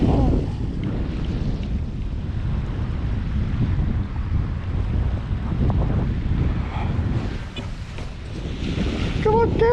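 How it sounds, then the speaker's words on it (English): Sea waves wash up a UK beach in a steady, loud broadband rush mixed with heavy wind buffeting on the microphone, continuous throughout with a slight swell near the end. "Come on, Gav, before the water gets you"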